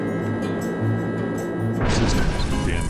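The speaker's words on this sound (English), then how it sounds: "There are now crash effects like an explosion and fires." A sudden loud train crash effect in a train simulator game bursts in partway through, a heavy explosion-like impact with a spray of debris-like noise after a low steady rumble.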